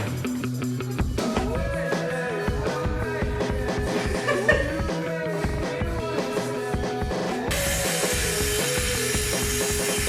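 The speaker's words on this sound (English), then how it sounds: "currently pre-drilling the roof battens" A drill pre-drills holes in wooden roof battens inside a Volkswagen Crafter van conversion, the motor whirring close and loud with shifting pitch as bits bite into the wood, over a steady busy background hum.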